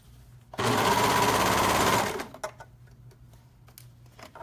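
A serger stitching the seams of knit joggers, close and loud: a steady, fast mechanical whir lasting about a second and a half, then it stops and quieter handling noises follow.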